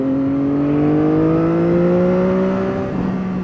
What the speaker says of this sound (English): The sound of the bike going through one is immense.